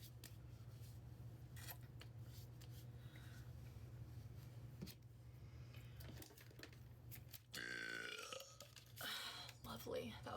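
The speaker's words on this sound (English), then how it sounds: "That was a real good burp." A single loud, close burp after drinking Dr. Pepper, rising sharply near the end over low background hum.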